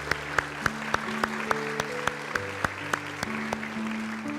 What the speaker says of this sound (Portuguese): Eu quero aplaudir os irmãos.